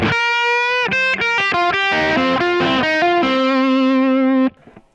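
Distorted electric guitar plays a run of two-note chords, choppy changes giving way to one long sustained chord that cuts off, loud and close with no talking.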